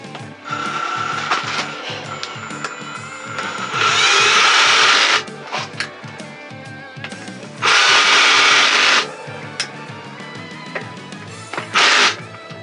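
A cordless drill with adjustable torque, used while assembling an electric bike conversion, whirs loudly in three close bursts, two long and one short, between quieter clicking and handling noises.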